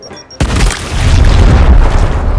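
A loud, deep boom from a grenade explosion in the video game Gears Tactics erupts suddenly after a brief quiet moment, followed by a sustained rumbling roar that lingers for a couple of seconds.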